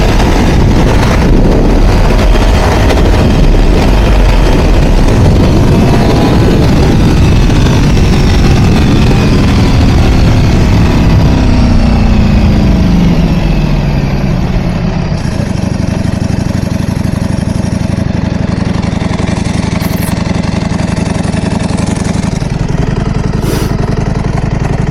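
A 2026 Ducati Panigale V4 Lamborghini with a dry clutch runs loud and close, first under riding noise, then settling to a rough idle with a couple of short, sharp revs near the end.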